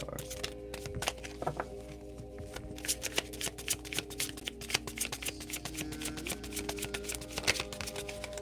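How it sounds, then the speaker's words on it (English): A deck of oracle cards being shuffled by hand, giving a steady, rapid riffle of papery flicks that carries on for several seconds, close by with a faint hum behind it. "But let me get a relationship card."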